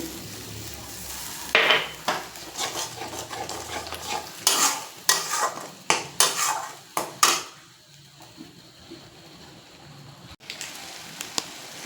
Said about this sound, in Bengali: টমেটোকে বেটে রেখেছিলাম সেটাও দিয়ে দিচ্ছি